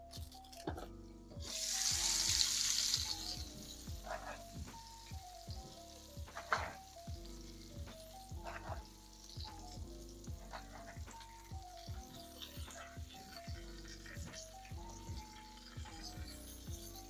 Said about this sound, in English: I believe the meatballs are done frying enough in the skillet.